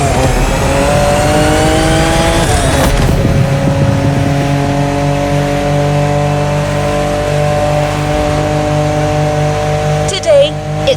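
BMW M5 Drift Edition in The Crew Motorfest, engine revving loud and close with a high whine, then settling into a sustained drone, over continuous background music.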